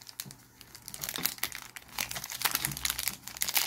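A Pokémon card booster pack is torn and crinkled open up close, its foil wrapper rustling and crackling loudly for a few seconds with no talking.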